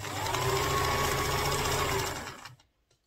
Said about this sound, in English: So continue sewing.